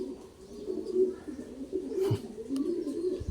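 Pigeons coo softly inside a large loft, with repeated low throaty calls and a few faint chirps over quiet background ambience.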